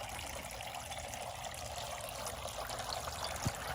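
A small garden water fountain trickles softly and steadily, faint and continuous, with a single soft knock near the end.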